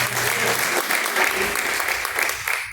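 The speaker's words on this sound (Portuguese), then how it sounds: "As palmas que louvam o nome do Senhor." A church congregation bursts into loud, sustained applause during a worship service, a dense wash of many hands clapping close by without pause for about three seconds.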